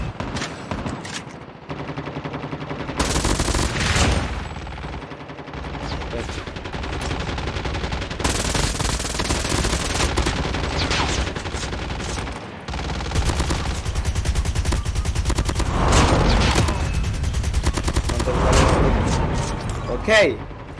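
Gunfire in Call of Duty Mobile, dense bursts of automatic fire and rapid shots that carry on almost continuously, loud and close, with voices over parts of it.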